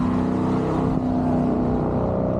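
A dense, continuous roar of car engines, like vehicles racing on a track, loud and sustained without a break.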